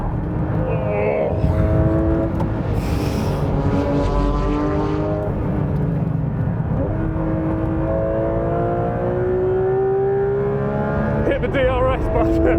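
A Manthey-kitted Porsche GT3 RS is driven hard around a race track. Its engine wails through gear changes in rising sweeps, dips as it brakes into corners and then climbs again, heard loudly from inside the car with a driver talking over it.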